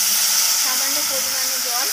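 Water poured into a hot pan while cooking spinach hisses steadily with steam, a loud broadband sizzle lasting throughout at close range.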